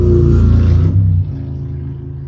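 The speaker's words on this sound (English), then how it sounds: "That was a motorcycle." A motorcycle passes by outdoors, a loud low engine rumble at first that drops away after about a second and lingers as a fainter droning tail.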